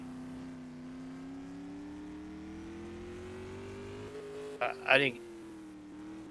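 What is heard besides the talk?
supermodified race car on time trial lap at Madera Speedway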